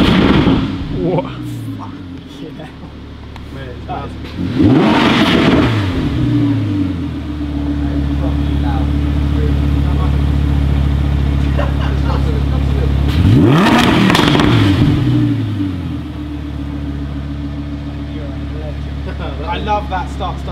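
An Audi R8 V10 Plus engine revs hard in two loud bursts, each rising sharply then settling into a deep, steady idle rumble between them, heard close with someone talking at times.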